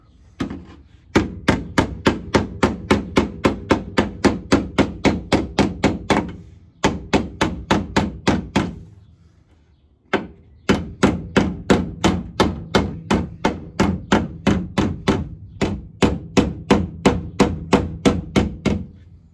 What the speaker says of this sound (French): quand vous avez le tas et que vous tapez, en fait, vous l'entendez tout de suite au bruit